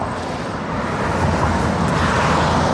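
Steady road traffic and passing vehicles fill an operational industrial site where pipeline cathodic protection testing is underway, a constant loud rumbling wash with no voices.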